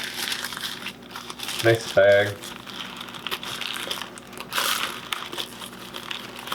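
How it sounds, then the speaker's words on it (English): Plastic crinkles and rustles up close in short bursts, with a brief voiced sound partway through. "It's the plastic bag."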